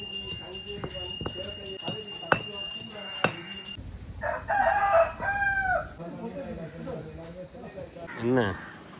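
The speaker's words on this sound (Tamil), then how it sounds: "நிறைய சேவல் நிற்கிது கோயில்." Several roosters crow loudly at a Tamil Amman temple, long rising calls repeated across the clip, with a bell-like ringing tone and sharp clatters early on and people talking in the background.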